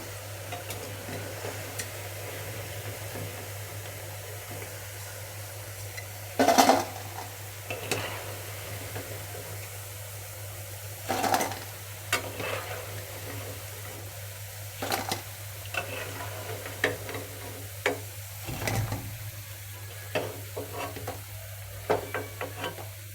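Potato and carrot Manchurian balls fry in a pan with a faint, steady sizzle, broken by occasional sharp clinks and stirring knocks of a utensil, close and without talk.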